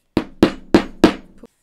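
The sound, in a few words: hammer tapping leather rivet flat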